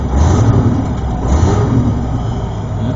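Cadillac with a transmission that will not shift gears, its engine droning low and uneven at about ten miles an hour, close and loud, holding one pitch without any gear change.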